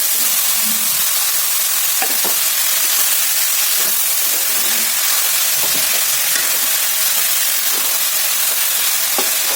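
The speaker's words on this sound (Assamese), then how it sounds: "আৰু এতিয়া মই গোটেইখিনি ভালকৈ এনেকৈ মিক্স কৰি দিম।" Chopped vegetables, including banana flower, potato and ridge gourd, are stirred in a hot cooking pan, giving a steady loud sizzle and hiss broken by frequent spoon scrapes and knocks, with no talking.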